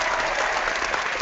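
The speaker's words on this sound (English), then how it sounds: "That is enough for applause right there." A brief, dense burst of applause sound effect played on a team conference call, a steady wash of clapping lasting about a second with no voices over it.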